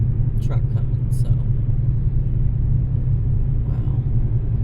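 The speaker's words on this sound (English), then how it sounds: "Okay, there's a heavy truck coming" A heavy truck on a highway rumbles past in a steady, deep roar close by, with a few short higher sounds early on and a person talking over it.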